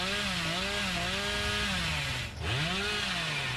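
Billy's chainsaw from Dead by Daylight revs continuously in the video game, a loud, steady buzzing drone with wavering pitch that dips briefly near the end before surging back up.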